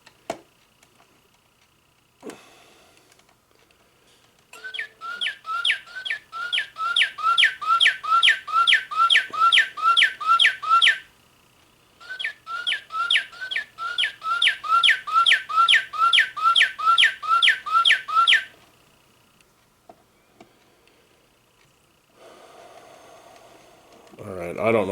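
A singing bird clock plays two long runs of rapid, repeating electronic chirps and whistles, bright and evenly pulsed, separated by a short pause, with quiet clicks and a brief voice before and after.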